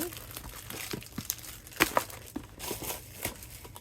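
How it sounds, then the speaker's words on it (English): Packaging of a Stampin' Up Paper Pumpkin paper craft kit crinkles and rustles in close, irregular bursts, with a few sharper crackles, as the kit is unboxed. "I am unboxing the February paper pumpkin."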